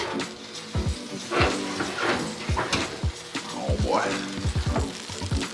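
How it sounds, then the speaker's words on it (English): Baked brown trout sizzling in an oven, a steady crackling fry sound with scattered sharp clinks and scrapes of the pan close by, and a brief spoken exclamation. "Oh yeah, there's sizzling"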